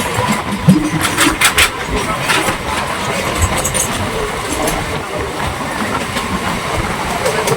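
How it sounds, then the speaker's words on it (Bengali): Aboard a Howrah–Tarakeswar local train leaving Malia station, the carriage rumbles and rattles steadily, with a few louder knocks and clanks early on before settling into an even rolling clatter. "মালিয়া থেকে ট্রেন ছাড়ছে, এবার যাবে হরিপাল।"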